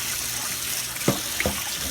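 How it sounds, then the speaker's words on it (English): Warm tap water runs steadily into a sink as a cast iron pan is rinsed, with a couple of brief splashes and knocks partway through and no talking. "I'm going to rinse it off with some warm water"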